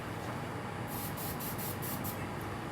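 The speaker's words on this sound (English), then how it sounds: "Spraying the glue on the stick bait off camera." A steady hiss of 3M spray adhesive bursts in a rapid, even rhythm, about seven short pulses close up, over a low background rumble, sprayed onto a stick bait fishing lure.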